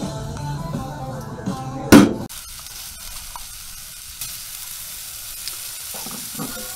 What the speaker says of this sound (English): we got them seared and we are letting them get to internal temp.